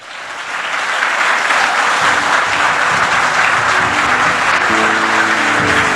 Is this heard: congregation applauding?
yes